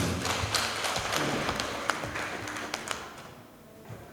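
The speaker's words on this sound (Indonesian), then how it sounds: "Tepuk tangan untuk panjenengan semua." Scattered applause from an audience at a party consolidation meeting in a PDIP branch office, a moderate spread of overlapping claps with a few sharper hand strikes that thin out toward the end.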